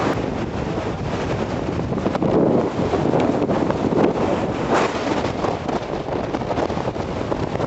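Strong wind high on Mont Blanc blasting across the microphone, a loud, continuous roaring buffet with gusty swells and no speech.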